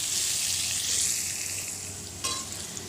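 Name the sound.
diced potatoes frying in oil with salt and turmeric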